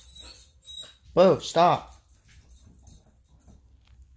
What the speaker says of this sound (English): Now the dog's gonna make a mess.